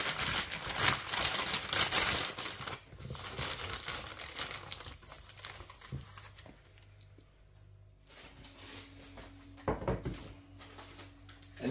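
Parchment paper crinkles and rustles as it is pushed down over freshly made nougat, with scattered close crackling and soft handling noises at moderate to quiet level.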